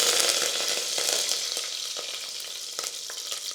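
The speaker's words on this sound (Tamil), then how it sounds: "எண்ணெய் காஞ்சிருச்சு, கடுகு சேர்த்துக்கலாம்." Mustard seeds and curry leaves hit hot oil with a bright crackling sizzle and scattered sharp pops, close and brief, with no talking.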